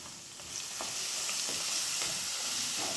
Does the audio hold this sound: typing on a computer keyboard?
no